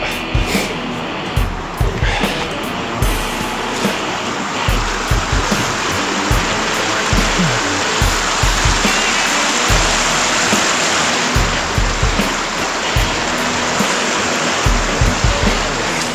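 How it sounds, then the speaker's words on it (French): Water rushes steadily in a nearby stream, a constant bright babbling flow with occasional soft thumps underneath. "Quand on entend un ruisseau comme ça"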